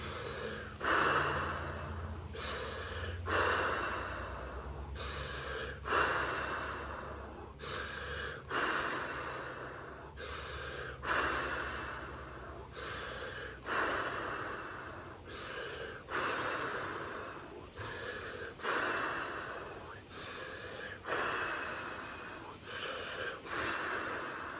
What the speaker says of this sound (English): 3 minutes breathing.